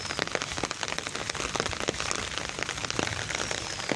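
Steady rain patters densely on flowers and garden plants, a close, continuous hiss of drops with no voices.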